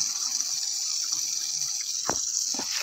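Strong, hard-pressure water flow from an irrigation hose watering newly transplanted eggplants in a garden, a steady close rush with a few splashing bursts near the end, no talking.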